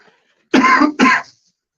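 Two short, loud coughs in quick succession, close by, with silence before and after.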